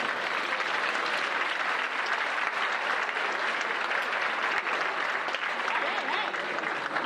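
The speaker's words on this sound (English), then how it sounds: "Let's get another round of applause for Sylvester." A conference audience applauds in a steady, dense round of clapping that fills the whole stretch at an even level, with no voices rising above it.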